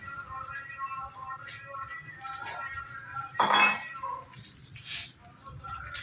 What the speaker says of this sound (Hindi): ये मैंने डिचका लिया है, अंदर मैं प्याज डाल रही हूँ।